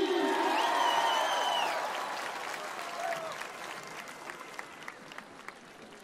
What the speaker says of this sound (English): Let's have a loud round of applause for the one and only Sadhguruji.